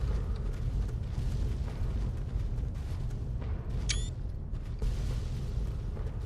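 Game explosion in Fallout 3, heard as a sustained loud, rumbling low roar lasting several seconds, with a brief high metallic ring near the middle; no talking over it.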